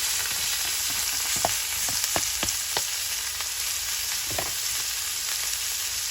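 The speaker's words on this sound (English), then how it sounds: "And dump all this butter in here. We're going to put all our garlic in here." Butter and garlic sizzling in a cast iron skillet at a deer camp, a continuous crackling fry with a few sharp pops and spatters, close and steady with no talk.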